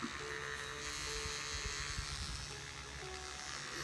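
Electric makeup brush cleaner spins a brush dry, a steady high buzzing whir with a low hum underneath, close and continuous throughout, no talking.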